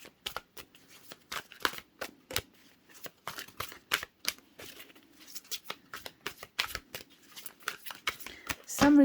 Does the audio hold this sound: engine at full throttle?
no